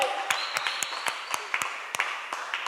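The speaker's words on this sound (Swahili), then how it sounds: "Pigia Yesu makofi." A church congregation claps for Jesus in a loose, uneven patter of sharp individual claps over a murmuring room background.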